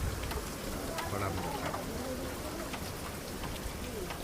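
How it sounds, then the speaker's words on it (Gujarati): Rain falls steadily in a soft, constant patter with scattered drops tapping nearby; a faint bird call sounds in the background. "વરસાદ હજી ચાલુ જ છે"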